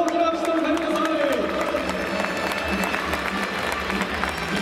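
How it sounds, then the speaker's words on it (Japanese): Stadium crowd applauding for an actor's ceremonial first pitch at a Chunichi Dragons home opener, broad sustained roar and clapping from a distance under a public-address announcer's voice. "大きな拍手をお迎えください。"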